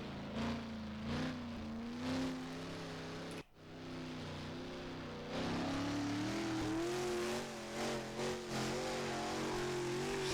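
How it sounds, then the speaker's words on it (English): A sprint car engine in a PC dirt track racing game drones and revs continuously, pitch rising and falling through corners, with a brief cut near the middle before the engine note swells again. "let's go try to get around in the sprint car."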